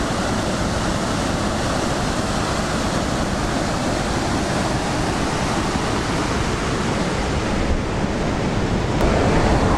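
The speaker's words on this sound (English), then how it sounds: "I can hear the roar of a waterfall at least." Waterfall near Kilt Rock on the Isle of Skye roaring as a steady, dense rush of falling water, continuous and fairly loud throughout, with no talking.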